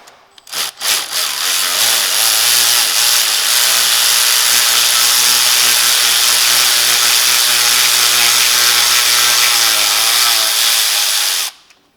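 A power tool, likely a cordless ratchet on a 5 mm socket, whirs loudly and steadily for about ten seconds. It is backing a stud out of the compressor on a 2018 Lincoln MKC 2.0L turbo, and starts and stops abruptly.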